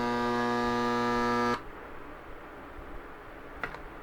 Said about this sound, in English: Two spot welds.